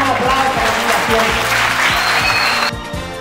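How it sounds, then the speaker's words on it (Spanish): Outdoor community crowd at a Dominican school-supplies handout in Colón claps for the Fundación, brisk applause over a rhythmic musical beat that cuts off near the end. "vamos a darle un aplauso a la Fundación."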